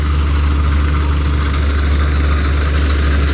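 A Shri Balaji thresher engine runs steadily in a coriander field, its loud, continuous low drone and mechanical rattle filling the scene without a break or any voices.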